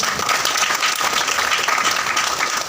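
A seminar audience at a leadership training event in Bathinda claps together in loud, sustained, dense applause that fills the whole moment with no pause.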